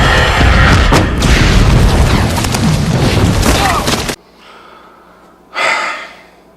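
Grenades blowing up as a huge explosion: a dense, roaring blast that fills about four seconds, cuts abruptly to near quiet, then gives way to a shorter, softer burst.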